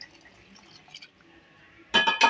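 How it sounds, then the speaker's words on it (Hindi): Hot water is poured into a pot of beef nihari, starting as faint dribbles and then turning into a sudden loud, close splashing rush near the end. "अब हम इसके अंदर भी पानी डालते हैं गर्म"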